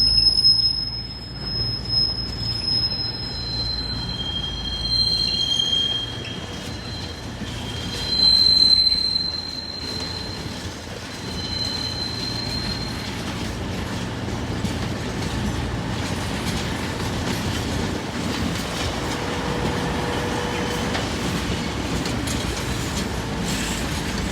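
An East Midlands Railway passenger train rolls steadily past with a continuous rumble, faint clickety-clack and high metallic wheel squeals early on.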